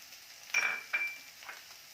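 Garlic mushrooms seasoned with salt and black pepper are stir-fried in a pan, with a quiet sizzle and two sharp clinks of the utensil against the metal.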